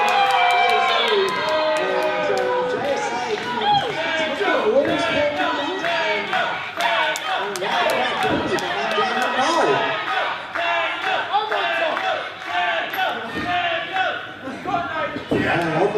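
Dense crowd noise at a sports show fills the whole stretch, with cheering, whoops and shouted voices in a steady wall of sound that swells at moments, with some speech inside it.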